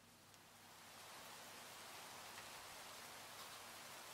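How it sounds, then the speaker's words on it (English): Rain falling in the Minecraft video game, a steady soft hiss of drops that swells in over the first second and then holds evenly, with no voices. "isn't the rain sound so nice?"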